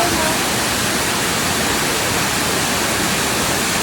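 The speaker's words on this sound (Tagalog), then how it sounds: "Sobrang sarap sa tenga ng tunog ng tubig" Waterfall at the entrance to Cat Cat Village in Vietnam, a loud, unbroken rush of falling water that fills the whole clip at a steady level.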